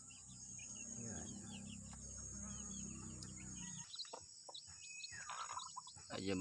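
Newly hatched native chicks chirp softly in a backyard coop, thin high peeps scattered over a loud low rumble that drops away halfway through, leaving the chirps clearer against background hiss.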